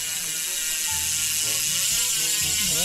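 Hope Pro 4 bicycle hub ratchet freewheeling with a fast, buzzing stream of clicks that speeds up and slows slightly, loud and close, with no voices.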